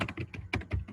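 Close, quiet keystrokes on a computer keyboard, a quick burst of about half a dozen clicks while code is being typed.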